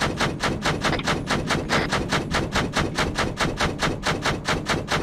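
Rapid, steady bursts of automatic gunfire from the video game Arma 3 repeat in an even rhythm, moderately loud and uninterrupted throughout, with no voices over it.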